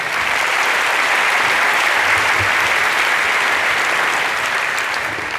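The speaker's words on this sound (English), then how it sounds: "Round of applause for Nicola as well, please" Audience applause for the evening's caption writer, Nicola, at a talk event: steady, dense clapping from a large crowd, loud and sustained throughout.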